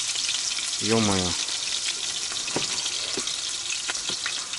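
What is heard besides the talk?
potatoes frying in a pan at riverside camp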